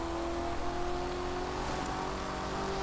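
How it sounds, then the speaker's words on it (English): A Lexus LFA engine in the racing video game The Crew 2 holds a steady, sustained high-pitched tone, moderately quiet and constant with no talking over it. "I really like the sound of the Lexus LFA."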